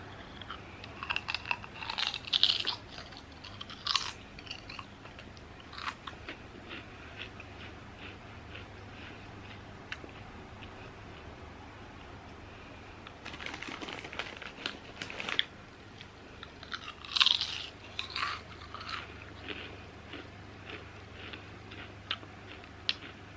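Curry-flavoured crisps being eaten: quiet crinkling of the packet and bursts of close crunching and chewing, in two main clusters separated by a calmer stretch, with no talking.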